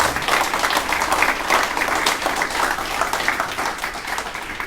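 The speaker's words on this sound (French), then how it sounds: "Je pense qu'ils méritent effectivement les applaudissements." Applause from an audience at a public meeting for the second round of the 2020 municipal elections in Lorient, a dense, continuous roar of many hands clapping, fairly loud and sustained throughout.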